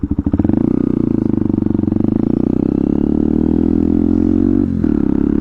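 Motorcycle exhaust fitted with an extra quiet baffle idles close by, a deep, even, throbbing putter after a rough start, loud and steady with a brief dip near the end; no voices.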